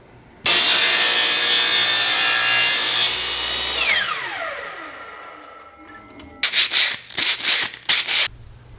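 A power saw cuts a wooden board with a loud, close whine that winds down to silence, then several short bursts of cutting follow.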